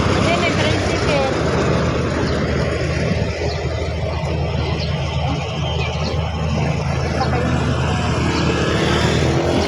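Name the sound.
motor tricycle passing on a rural road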